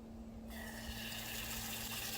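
Water suddenly starts gushing from a freshly dug well, a steady rushing flow that begins after a brief low pump hum and continues strongly.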